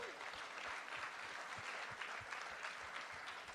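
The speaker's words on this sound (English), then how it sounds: "Let's give these people a round of applause quickly." Audience applause at a Seattle tech community meetup, honouring the hiring managers in the room: steady, dense clapping from a full crowd that lasts throughout, fairly faint and without speech.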